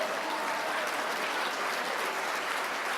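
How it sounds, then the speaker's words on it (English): A stadium crowd cheers and applauds a football referee, a dense, continuous wash of clapping and cheering that stays loud and even throughout. "whole crowd to cheer"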